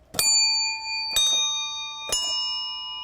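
Three tuned handbells tapped one after another at roughly one-second intervals, each a bright, clear ringing strike with a long sustained decay, close and alone without voices.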